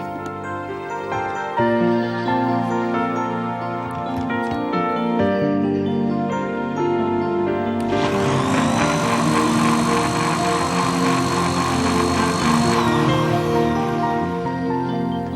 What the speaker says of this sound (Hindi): और इसको फिर मिक्सी में चला दें।